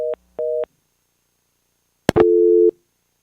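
A telephone line after a call is hung up: two short electronic beeps, a click, then one longer steady tone, with silence in between.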